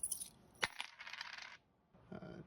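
Coins tossed and dropped onto a surface in place of a dice roll: a sharp metallic clink, then a jingling rattle as they settle, a pause, and a second softer scatter of coins, close and alone.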